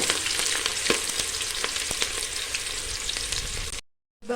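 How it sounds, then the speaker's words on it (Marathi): Onion fries in a pan with a loud, close, crackling sizzle and occasional sharp pops, running steadily for almost four seconds before cutting out abruptly into a brief silence. "इथे आता कांदा टाकून घेऊया आपण कांदा चांगला परतून घेऊया"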